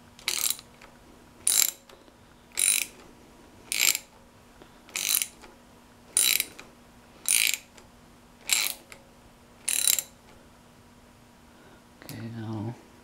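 A ratchet tightens a thermostat housing bolt on a Jeep 4.0 engine, nine crisp clicking bursts spaced about a second apart, close and distinct, followed by a brief low rattle at the end over quiet room hum.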